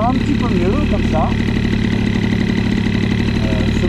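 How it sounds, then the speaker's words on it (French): A moped engine fitted with an Airsal CPI 70 kit and heavily restricted at the base, running with a steady buzzing idle throughout while someone talks over it. "Ce moteur, même bridé à mort à l'embase, fonctionne très bien."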